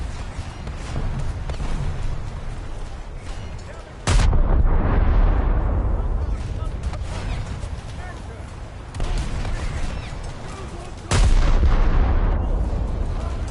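Naval guns fire from a ship in the War Thunder video game. Two very loud, close booms each ring out into a long rumbling roar, set against constant rushing battle noise. No one speaks.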